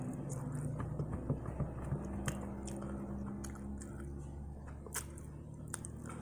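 Close, wet chewing of a bite of a Popeye's spicy chicken sandwich, with soft squishing and repeated bites over a faint background hum and no talking.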